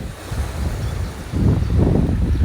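Sea waves wash onto a beach under strong gusting wind, a steady rushing roar that swells louder partway through, with no voices.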